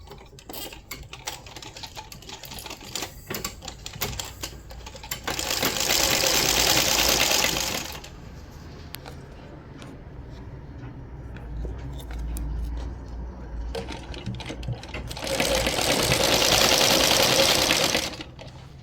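Close-up sewing machine hemming a sari, two loud sustained bursts of fast whirring stitching separated by quieter handling clicks and rustles of fabric.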